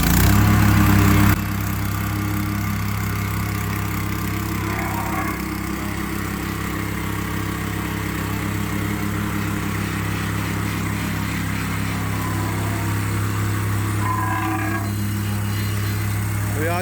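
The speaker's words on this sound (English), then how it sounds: "rubber mat to go underneath the whacker plate to protect the paving" Whacker plate compactor running on paving over a rubber protective mat, a steady loud engine drone with a constant low rumble throughout, briefly louder at the start.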